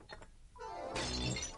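A favourite cup falls and shatters, a sudden bright crash of breaking crockery after a couple of quiet clinks, the fragments ringing briefly in a short, close burst.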